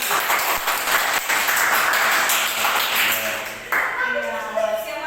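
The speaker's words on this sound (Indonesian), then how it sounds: "Tepuk tangan dong buat" A classroom group applauds in a steady patter of clapping that fades out, followed by quieter room sound with faint ringing tones and some talk.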